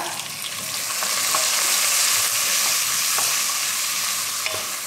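Eggplant pieces fry in oil for sambar, making a continuous, fairly loud sizzle close by, dotted with small clinks of stirring.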